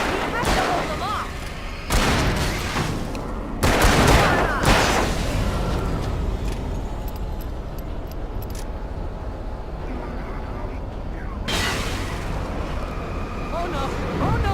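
Gunfire in the Alan Wake video game during a defense at a dam: loud broadband bursts of shots around the first five seconds and again near the end, with a lower rumble and voices talking between them.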